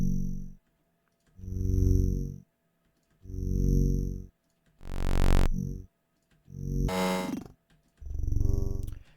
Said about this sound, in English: The source sound we're using today is going to be this Eurorack patch I came up with last night.